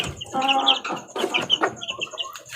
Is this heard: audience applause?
no